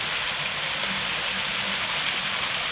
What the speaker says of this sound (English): Bigger fountains down there, smaller ones here.